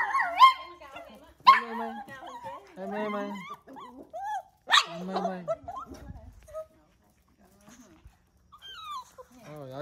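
A dog whimpers and yips in short, high, whining bursts, mixed with people talking and laughing nearby, then it falls quiet.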